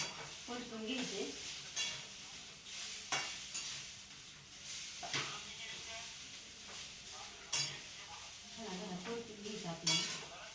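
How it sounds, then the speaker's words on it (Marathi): Grated sweet potato is stirred and sautéed in ghee in a pan, with a soft sizzle under repeated scraping strokes of a spoon, close by, and a voice speaks intermittently in the background. "मी खिस टाकून घेतला सगळा चांगला झाला ना, परतून घ्यायचे."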